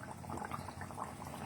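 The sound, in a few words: frying gur poa pitha (jaggery rice-flour fritters) in oil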